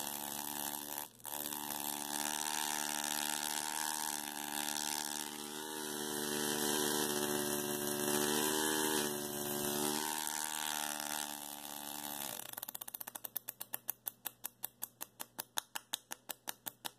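A mini solid state Tesla coil running at 24 volts throws electric arcs, a continuous buzzing hum with rough crackle that shifts to rapid interrupted pulses near the end.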